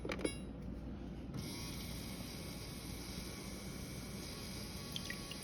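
A refrigerator water dispenser runs with vinegar flowing through it, giving a steady low mechanical hum and rushing flow that holds even throughout, with a faint click near the start.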